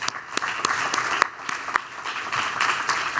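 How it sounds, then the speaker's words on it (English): Applause from a conference audience at a mental health event, a brief, steady spatter of many hands clapping at moderate distance, with no talk over it. "please give them another round of applause"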